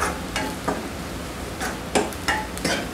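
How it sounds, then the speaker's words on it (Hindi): Spices being stirred in a hot pan for palak paneer, with a steady sizzle and repeated scraping strokes of a spoon at an irregular rhythm. "आप इसे अच्छे से हिलाते रहिए।"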